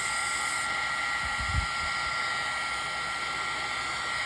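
A heat gun blows a steady, even hiss of hot air over embossing powder on a crafting project, a constant close whoosh with a faint low bump partway through and no talking.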